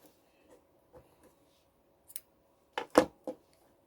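Scissors cut through crochet yarn in a few quick, quiet snips, with soft handling clicks before a sharper cluster of cuts near the end, close up and alone.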